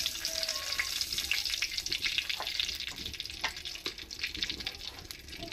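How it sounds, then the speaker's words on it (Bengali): Whole dried red chillies frying in a little hot oil, a steady bright sizzle with crackling pops throughout, close and continuous with no voices. "একটু তেল দিয়ে দিলাম। দুটা গোটা শুকনো লঙ্কা দিয়ে দিলাম।"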